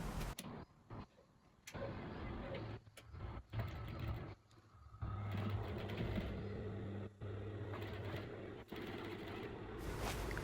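A sewing machine stitches palazzo trousers in quiet bursts, whirring runs starting and stopping several times with short pauses between.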